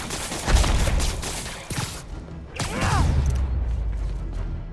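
Enemy gunmen fire at Spider-Man in Marvel's Spider-Man Remastered, loud bursts of rapid gunfire crackling across a busy mix of whooshes, impacts and mechanical clatter, with brief lulls between volleys.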